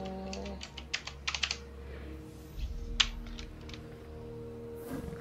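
Computer keyboard typing, a quick cluster of clicky keystrokes followed by sparse isolated taps over a low steady hum.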